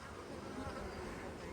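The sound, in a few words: honey bees buzzing at hive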